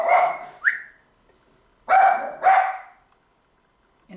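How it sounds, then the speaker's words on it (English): A pet dog barks in a quiet room, three or four short, sharp barks in two bursts separated by silence, close to the microphone and on their own without talk. "Sorry, that's my dog, Sugar."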